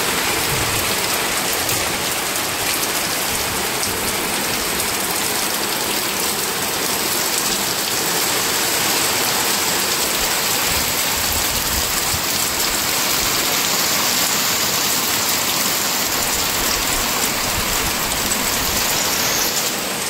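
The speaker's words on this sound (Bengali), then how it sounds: "এই জায়গাটা থেকে জল পড়ছে, এলবেস্টার সব ফেটে গেছে" Water pouring and dripping through a cracked asbestos roof into a kitchen, heard as a loud, steady rain-like wash of splashing drops that never lets up.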